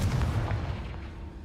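A Confringo fire spell blasts in Hogwarts Legacy, a deep booming burst that rolls in loud and close, then decays into a low rumbling tail for about a second and a half.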